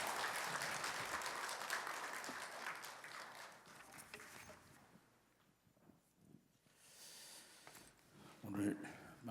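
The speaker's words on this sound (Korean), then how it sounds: "우리 큰 박수로 맞이하도록 하겠습니다." Church congregation at a revival service clapping to welcome the pastor, dense applause for several seconds that thins and fades away, followed by scattered quieter sounds and a brief bump near the end.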